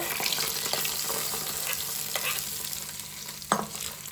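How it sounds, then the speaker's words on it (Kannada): Crackling sizzle of hot tempering oil poured into raw mango chutney, with soft stirring and a sharper clack near the end. "ಇವಾಗ ನಾನು ಅದಕ್ಕೆ ಒಗ್ಗರಣೆ ಮಾಡಿದ್ದೀನಲ್ಲ, ಅದನ್ನು ಕೂಡ ಹಾಕ್ಕೊಳ್ತಾ ಇದ್ದೀನಿ ನೋಡಿ"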